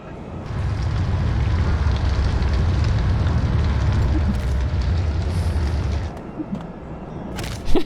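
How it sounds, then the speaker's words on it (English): A large fire in the submarine game Barotrauma roars as a loud, steady, rumbling blaze for several seconds, then drops sharply, leaving quieter crackles and a final sharp burst. "Oh my god, that is a large fire."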